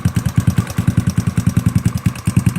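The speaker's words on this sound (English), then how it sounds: "you think that you're not working the engine because it's going put, put, put, put, put" A GY6 scooter engine idles with a fast, even put-put-put pulse, close and loud, each firing clearly separated in a steady rhythm with no talking.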